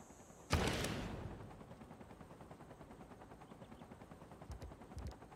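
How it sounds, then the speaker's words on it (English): Greek rocket artillery strike in Civilization 6: a sharp, loud blast opens, then decays into a steady rattling rumble with a few faint clicks near the end. "Mechanized infantry destroyed by a Greek rocket artillery."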